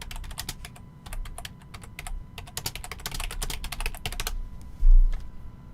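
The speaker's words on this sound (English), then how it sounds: "Let's type this in." Fast, close clicking of a computer keyboard as a search is typed, bursts of rapid keystrokes with brief pauses, loud and alone with no talking.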